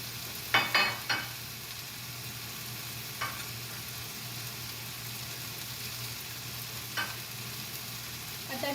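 Dal stirred into radish greens in a pan: a low steady simmering hiss with a few scraping stirs near the start and one more later, no talking.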